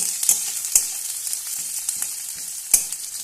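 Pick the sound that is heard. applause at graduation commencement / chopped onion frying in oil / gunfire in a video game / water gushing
chopped onion frying in oil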